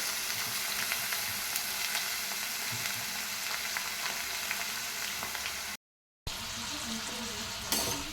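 Broccoli palya frying in a pan while being stirred, a close, steady sizzle with scraping and clinks of the spatula, broken by a brief silent gap partway through.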